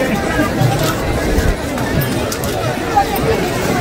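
A dense crowd of pilgrims at Dive Ghat during the Palkhi procession of the Pandharpur Wari, a close, continuous murmur of many voices with a nearby speaker talking over the babble.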